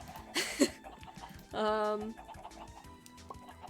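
Chickens cluck in a Minecraft Minecolonies modpack world, two short clucking bursts followed by a longer, tonal squawk, fairly close with quiet game sounds between.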